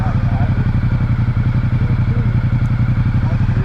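A 2017 Ducati Multistrada 950 motorcycle engine runs steadily nearby with a loud, even rhythmic throb and a faint clatter throughout, without a break.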